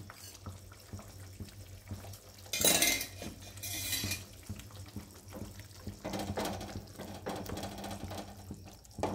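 A spoon stirs home-ground garam masala of cardamom, clove and cinnamon into pea-and-potato ghugni in a metal pot. Scraping and clinks run throughout, with a louder burst of clatter partway through and a steady low hum beneath.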